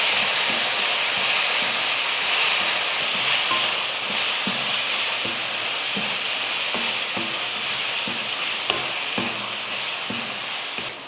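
Tomato with garam masala and chilli powder sizzles loudly in a pan for egg rice, a constant close frying hiss broken by regular scraping and tapping strokes of a spoon stirring, with no one talking.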